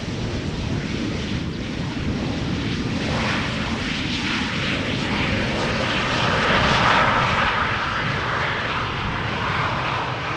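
A KLM Cityhopper airliner arriving from London City roars past on approach to Schiphol Airport, a loud, broad jet rumble swelling and easing with some wind noise and no talk.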